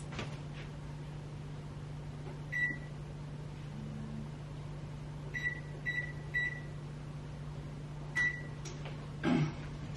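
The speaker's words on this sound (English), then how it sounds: "preheat your oven to 400 degrees, in which I'm going to do that now" An oven control panel beeps several times as it is set to preheat to 400 degrees, short electronic tones in small clusters over a steady low hum from the appliance.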